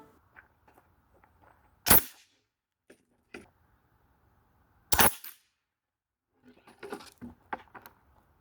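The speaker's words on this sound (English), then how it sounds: "I liked the shotgun so much, I decided to test it from a distance the next day." A homemade Nerf shotgun fires from a distance of about 20 meters, giving two sharp, isolated pops several seconds apart amid faint clicks and light rattling handling noises in a quiet setting.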